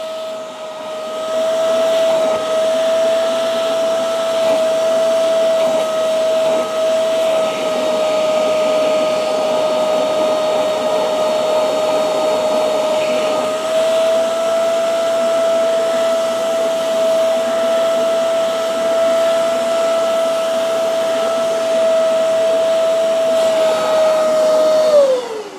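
Hoover CleanSlate Plus carpet and upholstery spot cleaner running with a steady, loud motor whine and suction hiss for the full stretch, the pitch holding level before winding down at the very end.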